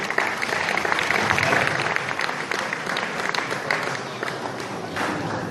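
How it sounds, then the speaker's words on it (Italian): Audience applause at a live interview event, steady dense clapping from a crowd that holds at an even level from start to finish. "Un applauso a Cristiano Chiari."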